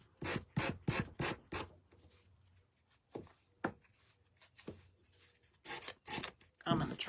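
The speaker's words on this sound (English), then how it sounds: "Sanding this scrapbook paper with these little sanders" A small sanding block rubbing over scrapbook paper in quick rasping strokes, close up, in a rhythmic burst of back-and-forth passes, then scattered single scrapes and another fast run.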